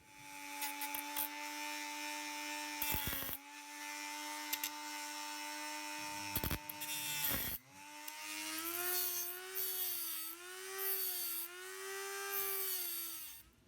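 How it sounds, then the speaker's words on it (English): Dremel rotary tool grinding off the protruding ends of steel screws holding a power transformer in a vintage Davoli D531T amplifier chassis, a loud close whine in several bursts with brief pauses and pitch dips as the bit bites. "I will have to remove the protruding ends of these screws that hold in the power transformer. Getting out the Dremel tool."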